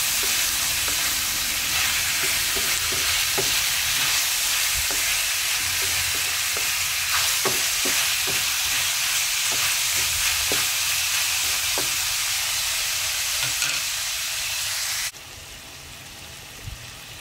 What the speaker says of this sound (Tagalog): Ginigisa ko para mas masarap,